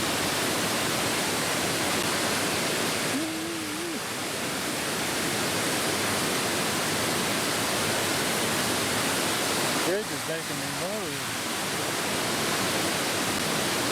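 Steady, powerful rushing of river water through a gorge fills the scene, a broad roar with no letup, with brief faint tonal sounds surfacing twice beneath it.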